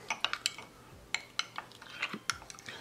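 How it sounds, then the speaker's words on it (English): A spoon stirs custard powder into cold milk, giving a quick, close series of light metallic clinks and taps against the bowl with soft swishing between them and no talking. "with the help of spoon, we're going to mix it well"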